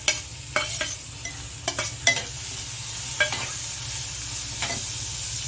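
Onion softened with green chilli, sautéed in a pan while cooking a bombil fish chutney; continuous close sizzle under irregular spatula stirring and scraping strokes, with no voices.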